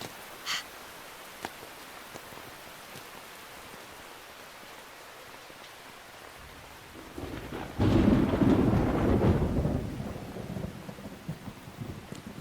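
Thunder and rain from a stormy scene in Metal Gear Solid 3: faint rainfall at first, then a loud rolling thunder rumble swells midway and lingers with heavy downpour.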